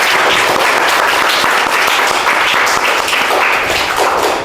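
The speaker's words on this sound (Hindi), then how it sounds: "इससे पहले आप लोगों को एक जोरदार ताली बजाना है।" Audience applause from a live GK quiz session for Children's Day, a loud, dense, steady burst of many hands clapping that fills the whole stretch without a break.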